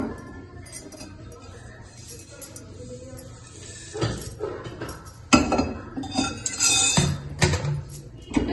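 Roasted curry leaves and chillies are scooped out of a hot pan with a metal spoon, giving scattered clinks and scrapes against the pan that grow louder and busier in the second half, with no talking.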